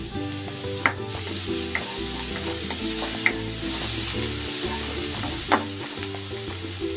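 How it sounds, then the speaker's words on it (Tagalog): Chopped garlic sizzles steadily in hot cooking oil for a crab stick and corn soup, with a bright, even frying hiss and a few sharp clicks and scrapes from stirring, close and with no one speaking. "Maglalagay ako ng cooking oil. Tigisan na natin tong bawang."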